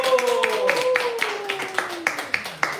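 A small church group claps at an afternoon Sunday prayer-school session, a handful of sharp, irregular claps under a speaking voice, moderately close.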